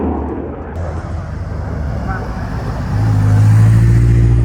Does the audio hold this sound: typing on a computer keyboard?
no